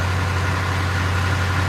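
A boat engine, its cover or floor above open with a big hole, runs loudly in a steady, unbroken low drone with a strong deep hum and no voices.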